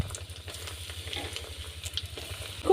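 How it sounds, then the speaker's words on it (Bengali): Egg balls deep-fry in hot oil, a soft, continuous bubbling sizzle with a faint rhythmic low patter and a few light clinks, fairly quiet and steady throughout. "এই বাকিগুলো ভেজে নেব।"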